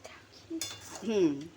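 A utensil clinks against a bowl while boiled banana flower is mashed with prawn paste: a few brief, close metallic taps and scrapes, with a short voiced sound near the end.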